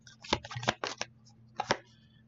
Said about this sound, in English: And we'll just do a quick shuffle here.